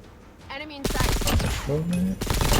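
An M4 LMG light machine gun fires in Call of Duty Mobile as one continuous, dense burst of automatic shots. It breaks in loudly after a short quiet start, and game sounds sit underneath.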